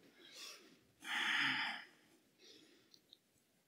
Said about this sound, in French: récupère ta respiration.